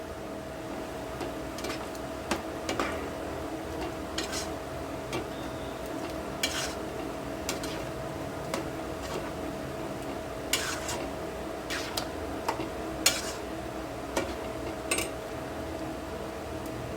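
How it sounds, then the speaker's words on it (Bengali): A spoon stirs a ground paste of mustard, fennel and nuts into shrimp for a yogurt shrimp dish, giving intermittent soft scrapes and clinks over a steady low kitchen hum, with no talk. "সর্ষে, মৌরি, বাদাম যে আমি বেটে রেখেছিলাম এটা আমি মিশিয়ে দিলাম"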